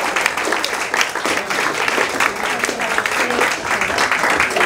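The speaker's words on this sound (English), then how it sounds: "Please give a warm, big applause for Ambia." Loud, dense audience applause for an event organizer, a sustained roar of many hands clapping close and even throughout, with no break or speech over it.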